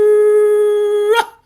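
A storyteller's voice imitates a dog howling in a single loud, sustained, steady tone held for over a second, then breaking off abruptly at the end.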